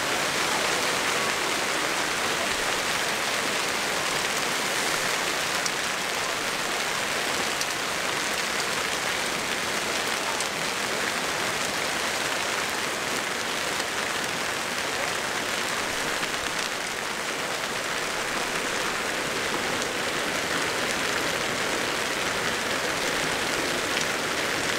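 Hail falls at Lake Sevan as a dense, continuous hiss and patter of stones striking surfaces all around, steady and loud throughout with no voices.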